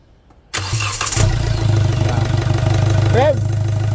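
Hyundai Accent engine, after taking in water, cranking briefly and catching, then settling into a steady, fairly loud idle with a slight rev. Voices are heard faintly over it.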